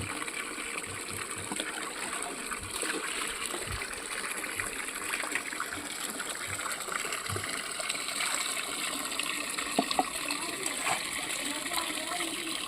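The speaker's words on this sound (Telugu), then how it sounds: "ఇట్లా నాలుగైదు సార్లు శుభ్రంగా కడుక్కోవాలండి" Raw chicken gets rinsed in water, with soft, steady splashing and trickling close by at low volume and small sloshes and drips throughout.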